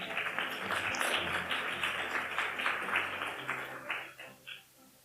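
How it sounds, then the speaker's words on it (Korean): Warm audience applause at a Korean speech contest during a Japan–Korea friendship festival in Shizuoka, steady clapping from a seated crowd that thins out and fades in its last second. "따뜻한 박수 부탁드립니다."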